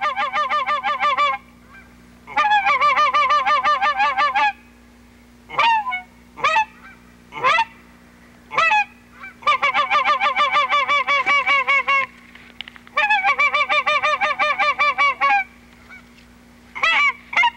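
Geese honk during a waterfowl hunt, loud and close, in rapid rhythmic bursts of repeated calls broken by single honks and short pauses, over a low steady hum.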